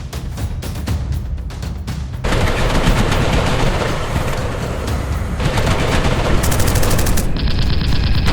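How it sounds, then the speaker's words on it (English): Loud, sustained machine gun fire from Ki-27 fighter planes over Thailand, in long continuous bursts, dense rattling volleys layered over a heavy aircraft engine roar, with no pauses. "A barrage of gunfire erupts across the Thai skies as the Ki-27s initiate their attack."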